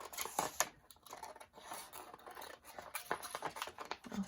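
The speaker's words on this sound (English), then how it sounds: "I am just going to cut it down." Scissors cutting material down to size during a crafting session, a series of close, quiet crisp snips and rustling scrapes in an uneven rhythm.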